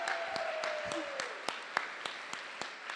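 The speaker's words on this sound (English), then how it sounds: "just give a round of applause for Riley for that ceremony" Wedding guests at a farm venue applaud the officiant Riley after the ceremony, a soft, moderately distant round of clapping with a few crisp individual claps, while a faint voice murmurs early on.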